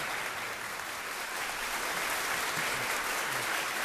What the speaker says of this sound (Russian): ваши аплодисменты, дорогие друзья